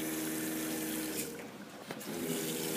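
Hot water runs from the faucet of a three-compartment sink, a steady rushing hiss that dips briefly in the middle before resuming at a fairly quiet level.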